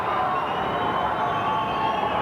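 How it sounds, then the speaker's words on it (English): A boxing arena crowd roars in a steady, dense wall of cheering and shouting that holds loud and unbroken throughout, with no single voice standing out. "The crowd worked into a frenzy here"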